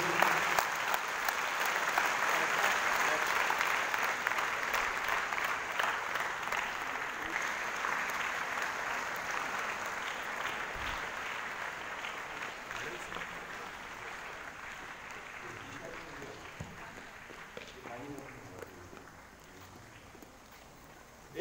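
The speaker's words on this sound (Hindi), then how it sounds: "जोरदार तालियां रुचि के लिए।" Sustained applause from a school audience at a unity event, a dense steady clatter of clapping that fades slowly over about twenty seconds.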